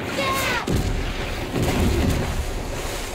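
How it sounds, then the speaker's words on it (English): Explosion in Tom Clancy's The Division 2, set in Washington, D.C.: a loud, deep boom with rumbling, crackling aftermath that fills the whole clip, with a brief voice near the start. "That was an explosion."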